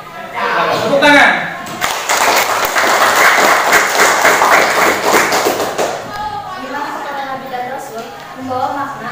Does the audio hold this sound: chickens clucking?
no